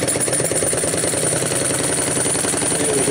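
A small graphite-greased model engine runs steadily and loudly, a fast even pop-pop putter with mechanical clatter, close by and alone with no talk.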